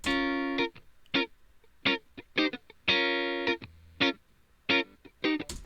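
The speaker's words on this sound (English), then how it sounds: "There's this guitar skank." Short, choppy electric guitar chord stabs hit on the offbeats in a steady reggae-style rhythm, each one clipped and bright, with silence between.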